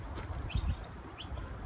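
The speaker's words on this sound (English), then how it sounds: "That's a little baby bird." A baby bird fledgling gives two short, thin chirps about half a second apart, faint over steady outdoor background noise.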